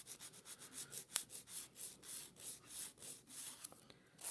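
Coarse file run along the edges of an acrylic nail in quick, regular back-and-forth strokes, faint but close, a soft rhythmic rasp of about four strokes per second with one brief click.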